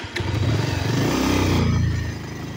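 A motorcycle engine runs steadily and loudly close by on a dusty, rough road, a continuous mid-pitched drone that swells slightly through the middle and then eases a little, with no talking.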